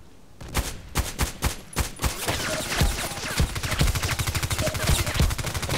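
Repeated pistol shots in a video game, first a few single spaced cracks, then a rapid run of close, loud reports firing in quick succession with a dense echoing tail.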